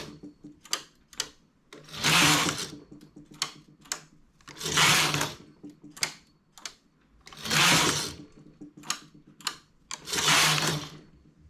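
A knitting machine carriage sweeps across while knitting the shoulder of a pink panel for a double-faced coat: four close, rushing passes at a steady pace, with small mechanical clicks between them and no voices.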